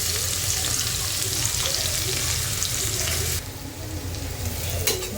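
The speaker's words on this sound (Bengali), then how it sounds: "পেঁয়াজটা আমরা এভাবে একটু নাড়াচাড়া দিয়ে নিচ্ছি।" Onions fry in hot oil while being stirred for a rohu fish curry, a dense loud sizzle that drops slightly partway through, close up with no talking.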